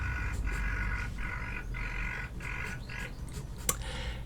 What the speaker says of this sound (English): If you can hear that squawking, I think I've got birds nesting in the roof.